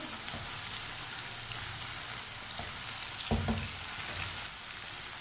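Tomatoes cooking in a pan for rajma, a soft steady sizzle with a brief stir or clink partway through, close but quiet, no voices.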